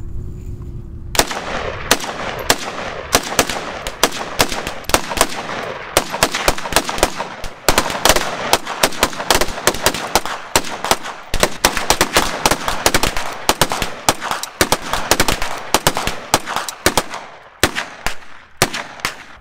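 Rapid loud gunshots fire at a tannerite target outdoors, a long irregular string of sharp cracks and bursts, close and continuous, with no talk.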